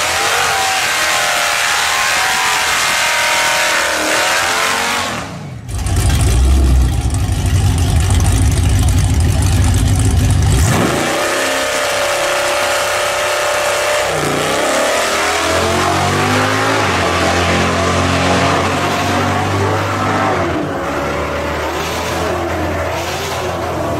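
Drag car on its second pass down the strip at a Moparty drag racing event, a loud engine roar building and surging for most of the run, with a brief pause near the middle before the revving returns, no talking.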